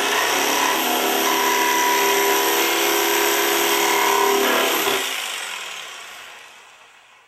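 Power saw cutting a shape out of material for a PowderJet build-your-own kit, a loud steady whining buzz close by that runs for about five seconds, then winds down and fades as the blade coasts to a stop.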